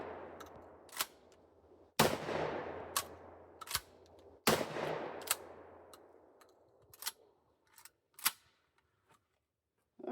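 Shotgun firing birdshot shells outdoors, a few loud blasts spaced seconds apart, each with a long echoing decay, followed by fainter clicks and clacks of the action being worked.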